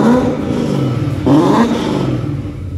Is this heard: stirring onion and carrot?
no